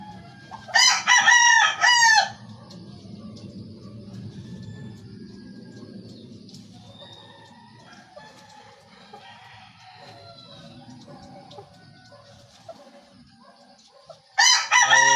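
A broodcock rooster crows loudly and close at the start, then again at the end, with quiet farmyard murmurs and faint background sounds in between.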